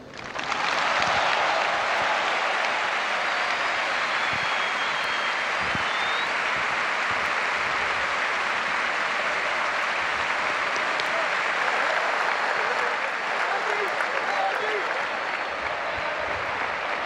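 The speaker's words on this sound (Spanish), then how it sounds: "Qué ovación, ¿no? Qué ovación, Fede." Long, dense ovation from a large crowd at a farewell party for footballers Sebastián Torrico and Néstor Ortigoza, a steady roar of clapping and cheering that holds at full strength without a break.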